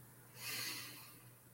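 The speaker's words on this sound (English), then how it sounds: "Taking another nice, long, deep inhale." A single long, deep inhale through the nose during a calm guided breathing exercise, soft and airy, swelling then easing off over about a second with no talk.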